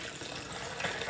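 Water pours steadily into a second water bottle already holding ice, a close, continuous filling gush with a slight rise near the end, no voices.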